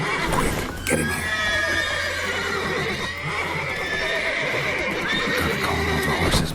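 Horses whinny and neigh repeatedly over a steady background in The Witcher 3, with faint hoof clip-clops mixed in, loud and near, no talking.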